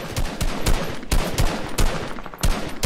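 Rapid automatic gunfire from the video game Fortnite bursts loudly in repeated sharp volleys, several clusters of shots one after another over a busy game background, with no voices.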